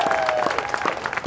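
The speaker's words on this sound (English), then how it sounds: "Let's have a round of applause." A brief stretch of crowd applause at a peace rally, dense and fairly loud, with a faint tonal whine running through it.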